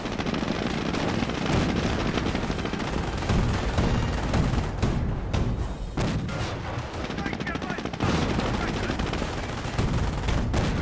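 Dense artillery barrage and gunfire fill a Company of Heroes battle, with continuous booming shell impacts and rattling shots layered thickly throughout, loud and unbroken, with a caster's voice faintly underneath.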